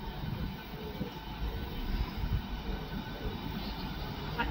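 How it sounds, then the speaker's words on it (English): An eight-coach East Midlands Railway passenger train pulls into platform one at a station, its rumbling rolling noise swelling gradually as it approaches, with no announcement heard over it. "next train to arrive at platform one will be the 1337 East Midlands Railway service to Corby"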